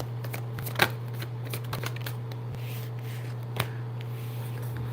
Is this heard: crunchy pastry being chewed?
no